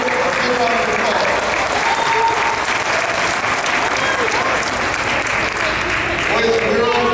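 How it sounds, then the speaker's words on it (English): Applause from a large audience at a Children's Grief Awareness Day event in Northeast Ohio, dense steady clapping filling the whole stretch with crowd murmur and a voice talking over it. "One more time, let's give a round of applause."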